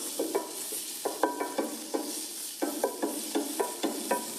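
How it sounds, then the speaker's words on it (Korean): Seasoned minced meat stir-fried in a pan, broken into strands with a utensil, giving rhythmic close scraping strokes over a soft sizzle, with no voices. "이것도 가닥가닥 풀어지도록 이제 헤쳐가면서 볶아주고요"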